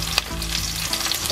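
Chopped onion fries in about 40 grams of oil in a wok, giving a brief, loud, close crackling sizzle with a sharp clack near the start. No voices are heard.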